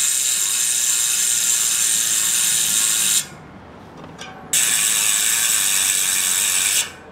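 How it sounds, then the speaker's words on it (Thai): Freehub ratchet on an S-FIGHT NOVA7 CURVE carbon road bike wheel with ceramic bearings, spinning with a loud, dense, continuous buzz of clicks that stops, goes quiet briefly, then resumes close up. "สำหรับเสียงของตัวโม่แบบนี้นะลงเขาลงอะไรมาชัดเจนนะครับผม"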